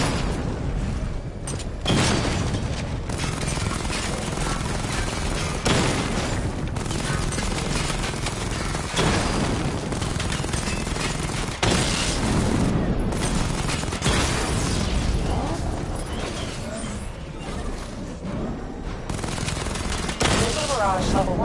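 Rapid gunfire and booming blasts at targets in Batman Arkham Knight, a dense, continuous barrage of shots and impacts that runs throughout, loud and close.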